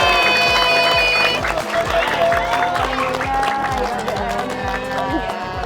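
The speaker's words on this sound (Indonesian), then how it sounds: "Wah, tepuk tangan sekali lagi." A crowd claps and cheers continuously at an outdoor community gathering, dense applause holding for several seconds alongside a steady rhythmic thumping beat.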